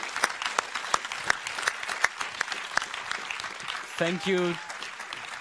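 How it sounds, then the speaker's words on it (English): Scattered audience applause for two actors after a Q&A at a film prize event in Amsterdam, the claps sparse and uneven, with a voice briefly speaking near the end. "Give them a very big applause"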